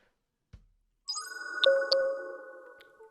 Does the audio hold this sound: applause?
no